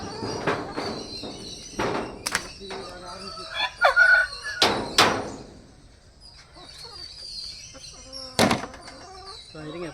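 Aseel roosters crow loudly several times nearby, with hens clucking in between and a few thumps, while people talk in the background.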